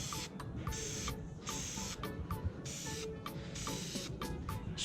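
A spray paint can hisses onto the wheel rims of a Miata in a series of short, evenly spaced bursts, close and fairly loud, with no talking.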